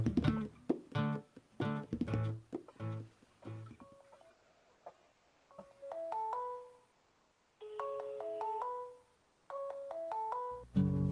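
A mobile phone rings from an incoming call, playing a melodic ringtone in repeated bright phrases separated by short pauses, heard alone and fairly close.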